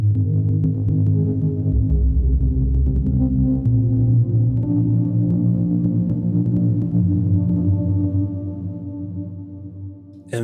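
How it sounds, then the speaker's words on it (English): Granulated guitar drones in a broad reverberant wash, pulsing and smeared, staying loud before thinning out near the end. "Now let's turn on the reverb."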